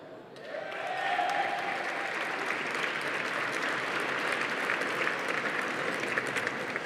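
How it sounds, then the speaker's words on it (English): Audience applause for honorees at the New York Edge 2023 gala, swelling within the first second into a steady, full round of clapping that carries on to the end, moderately distant. "I like everybody to get their applause"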